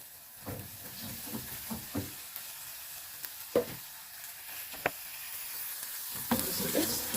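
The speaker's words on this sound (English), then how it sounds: "So I'll add my carrots and then just fry them lightly." Carrots and capsicum fry lightly in a pan, a soft steady sizzle punctuated by scattered taps and scrapes of stirring.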